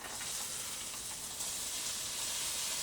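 Mince and chopped onion hit a hot pan with a steady, close, moderately loud sizzling hiss.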